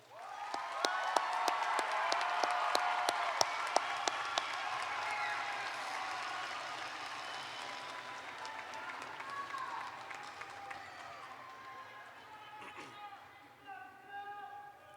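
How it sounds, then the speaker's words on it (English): A crowd at the Caldwell High School Class of 2020 ceremony gives a sustained round of applause, dense clapping and some cheering that swells, then gradually fades to scattered claps. "let's give class of 2020 one more round of applause"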